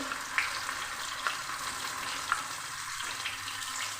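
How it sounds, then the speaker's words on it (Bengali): Whole pieces of fish fat fry in oil in a wok with a constant crackling sizzle, punctuated by a few sharp pops and spatters, near and moderately loud. "এটা আমি এবার কড়াইয়ে দিয়ে ভেজে নিচ্ছি তেলে"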